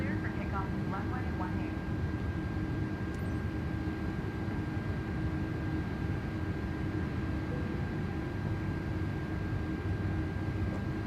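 A Qatar Airways A330 airliner in Microsoft Flight Simulator 2024 produces a steady, moderately loud broadband engine roar with a faint high whine running through it, unchanging for the whole stretch.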